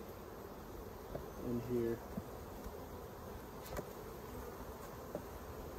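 Honey bees, including drones, buzzing around an open beehive during a late-summer hive split, a soft, steady drone with one louder buzz passing close, while a person speaks briefly.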